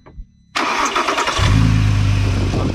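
An Audi TT's 3.2-litre V6 engine cranks and catches after a brief quiet moment, then settles into a steady, rich idle that sits loud and close.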